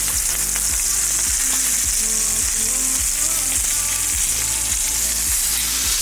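Food sears in a hot pan with a loud, constant sizzle and crackle, along with a few soft knocks, and no one speaks.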